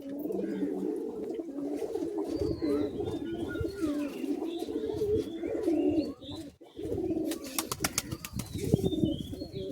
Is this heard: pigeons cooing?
yes